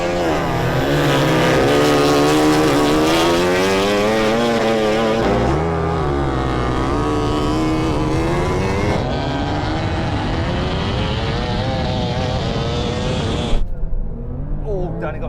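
A KTM MotoGP racing motorcycle screams past at full acceleration in a drag race against a KTM Super Duke R Evo and a Porsche 911 Turbo, loud, high-revving and continuous, rising with gear changes, with a voice talking over it.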